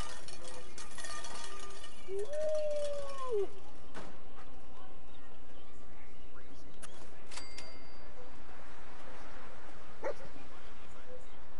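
Dogmeat, the dog in Fallout 4, barks and whimpers amid in-game noise and clicks, a single bark and a whine rising out of dense background sound.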